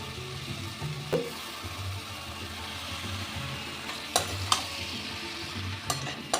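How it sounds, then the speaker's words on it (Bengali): Grated sweet pumpkin being stirred and fried with spices in a pan, a steady low sizzle with occasional scraping knocks of the spoon, close and continuous with no talk. "মশলার সাথে খুব ভালো করে এটাও কষিয়ে নেব"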